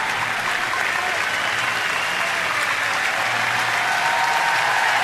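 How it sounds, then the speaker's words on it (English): A home baseball crowd gives a sustained ovation at a Cubs–Nationals game in September 2012, loud dense applause swelling steadily throughout with no voices over it. "We should get a nice ovation right here by the home crowd."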